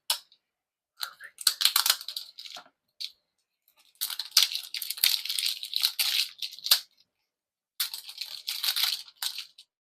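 A knife cuts into a plastic D20 dice capsule in short bursts of crisp scraping and crackling, near and fairly quiet, with brief silent gaps between strokes.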